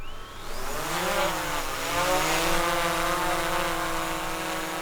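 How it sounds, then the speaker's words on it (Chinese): A DJI Air 3 drone lifts off and flies beside an abandoned 1960s school in Japan, its propellers giving a steady, loud, close whine with shifting harmonics as it climbs. No one speaks. "接下来用无人机飞起来，看一下它会变成什么样子。"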